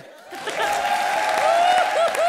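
Audience applause on a comedy show rises after a short quiet start and continues as a bright wash of clapping, with a voice and light chuckles woven through it.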